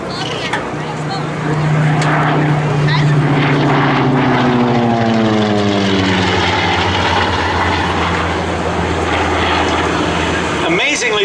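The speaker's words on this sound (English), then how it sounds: "Let's listen to the sound of that Wright Cyclone engine." Wright Cyclone radial engine of an SB2C Helldiver running at an open house, a loud continuous propeller drone with sweeping harmonics as it passes, rising and falling in pitch, with crowd noise underneath.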